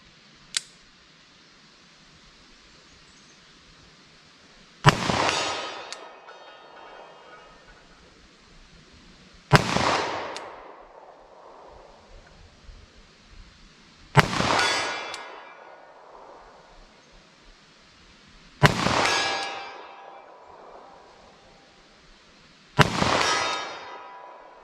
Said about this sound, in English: let's see what I can do here with our 10 millimeter auto